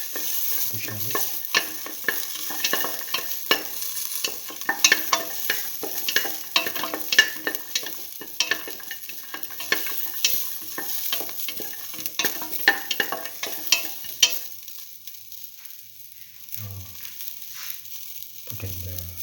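Shallots and garlic fry in a pan, giving a steady broadband sizzle broken by repeated scraping and stirring knocks, with a few low thuds near the end as the frying settles slightly quieter.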